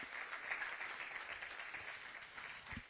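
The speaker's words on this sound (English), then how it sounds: "I think Doctor deserves a bigger round of applause than that." Audience applause at a live economics conference in Uganda following an expert's talk, a steady wash of clapping from a crowd, moderately loud and sustained with no speech over it.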